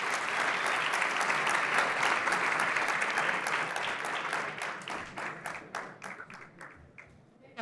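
Sustained applause from an audience at a Brazilian macroeconomics talk, dense and steady before thinning out into scattered claps that fade toward the end.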